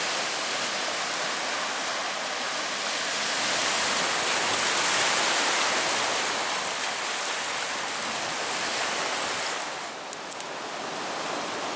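Rough Lake Superior waves rolling onto the shore on a fall day, a loud, continuous wash of surf with gentle swells in intensity and no talking.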